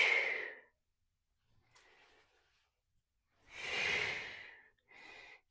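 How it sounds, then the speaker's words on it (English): Slow, deep breaths during a gentle morning yoga flow: a long exhale, a faint quiet pause, then a fuller audible breath and a shorter one, close to the microphone with no talking. "Exhale as you tuck. Inhale as you reach."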